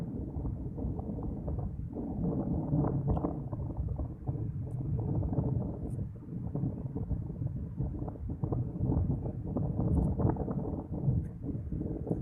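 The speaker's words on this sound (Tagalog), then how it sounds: "Saka malakas lang yung hangin." Steady, heavy wind roaring and buffeting the microphone at a rocky sunset viewpoint in Dumangas, Philippines, a continuous low rumble with gusts that swell and ease throughout.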